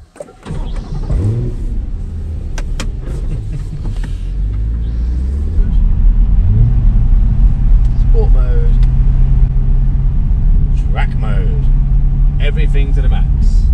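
A Corvette C8 Stingray accelerates hard along a Malibu canyon road. The engine rumbles loud and steady, rising in pitch, with wind noise throughout and someone talking over it.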